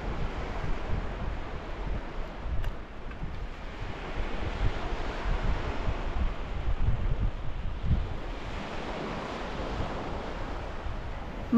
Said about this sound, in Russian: Но море сегодня бесподобное.